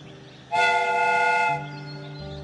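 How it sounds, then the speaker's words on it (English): A steam whistle on a replica train in a Sherlock Holmes video game sounds one loud, sustained blast of about a second. It is bright and harmonic, and it cuts in sharply then drops back to a low mechanical hum. "The steam whistle is ready to be used."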